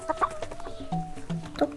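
Cartoonish chicken clucking from the Scary Teacher Stone Age video game comes as a quick series of short, bright clucks and squawks over soft game background sound.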